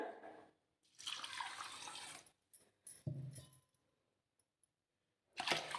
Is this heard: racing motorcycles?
no